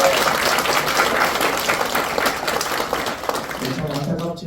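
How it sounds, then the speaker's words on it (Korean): Applause fills the room at a press conference, a dense burst of many hands clapping that stays loud throughout and eases slightly toward the end, with voices mixed in. "우리 박수 한번 칠까요?"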